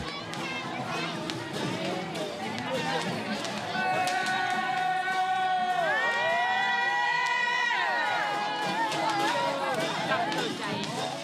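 A dense crowd passing during a Buddhist temple procession, continuous chatter and shouting voices with children among them, plus sustained tonal sounds and sliding pitches over the bustle.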